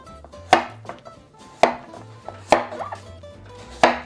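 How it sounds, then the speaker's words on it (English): A knife chops through celery root on a cutting board, four sharp, loud thuds spaced about a second apart with softer shaving scrapes between them, close and clear with no talking. "I'm gonna work with the top of my knife."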